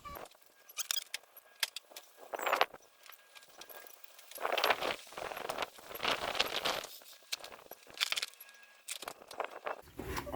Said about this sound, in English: I'm going to hand tighten them first.